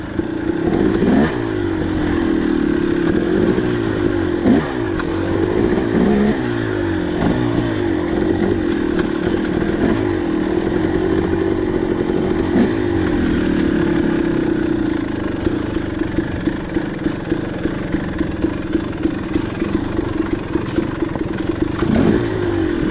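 A KTM 300 XC two-stroke dirt bike engine chugs and putters steadily at low revs going down a rocky trail, with rattling clatter from the bike bouncing over rough ground throughout.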